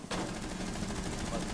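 Sustained video game gunfire in a ranked shooter match, a dense rapid run of shots that starts abruptly and keeps going loud and close throughout, with no clear gaps between bursts.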